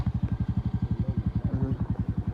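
Motorcycle engine idling close by on a road, a rapid, even thumping pulse that holds steady throughout, with a faint voice briefly underneath.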